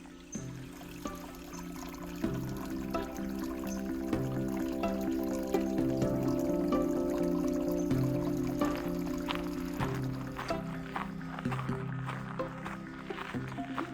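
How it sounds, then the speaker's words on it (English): Steady broadband rush of flowing water, continuous and fairly close, with a faint tonal hum running underneath. "That's No Name Creek."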